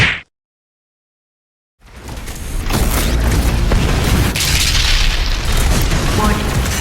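Shotgun full-auto finisher in the Doom Eternal video game, heavy booming blasts and mechanical clatter running continuously after a short silence, loud and dense with game effects.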